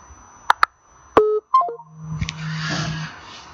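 Short electronic telephone tones beep in quick succession during a phone call, followed by a low steady hum and a burst of breathy noise near the line.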